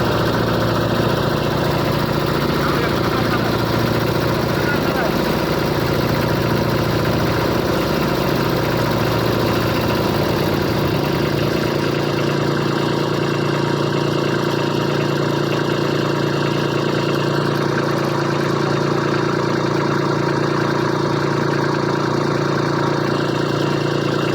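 A tractor engine idles steadily while stuck in mud after heavy rain on a farm, a continuous low rumble that drops in level and thins out about halfway through, with no speech.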